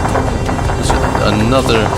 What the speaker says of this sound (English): Another enemy transport chopper.